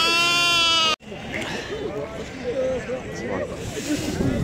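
Sheep bleat repeatedly amid the busy hubbub of a livestock market during a sheep sale, with several calls rising over steady crowd noise and nearby chatter.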